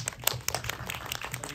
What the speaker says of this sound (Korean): 박수라도 네.